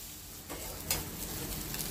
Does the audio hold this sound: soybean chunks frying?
yes